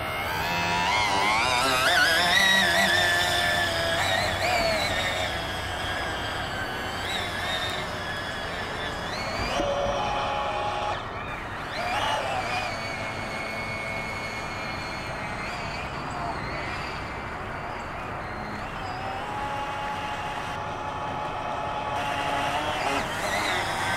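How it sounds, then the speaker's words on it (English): A modified Chinese-made Honda-style outboard motor runs continuously with a droning, wavering engine whine that rises and falls in pitch over a steady low rumble throughout. "second test of the Chinese outboard."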